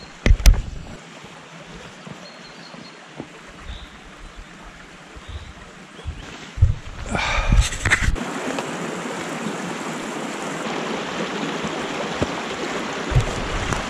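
A waterfall in the Ninglinspo forest, a steady rushing wash of water heard faintly at first, then swelling louder and fuller partway through after a few clattering bumps.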